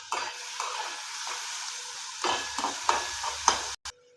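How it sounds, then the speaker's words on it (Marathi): Chopped onion sautéing in a pan for a tomato chutney gives a steady close sizzle, with a few sharper stirring clicks and scrapes near the end before it cuts off. "आता लगेच आपण कांदा टाकून घेऊ परतायला"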